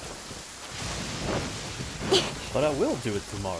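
Steady rain from a downpour with a thunderstorm rumble in the video game Genshin Impact, a continuous wash of rainfall under a voice speaking over it.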